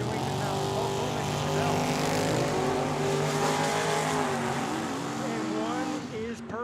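A 1967 Corvette launches off the line at a drag strip in Tucson, its engine loud and close with rising and falling revs, and a voice is heard over the noise.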